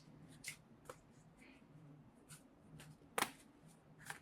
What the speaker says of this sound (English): I'm just going to pull cards and